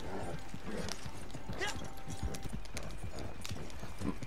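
A horse's hooves clop in a steady walking rhythm in the Red Dead Online game world, near and constant for the whole stretch, with no voices over it.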